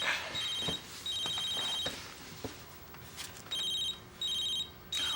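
A cell phone rings repeatedly indoors, its electronic ringtone sounding in regular bursts with short pauses between them, moderately loud against quiet room noise.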